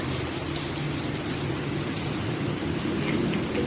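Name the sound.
rain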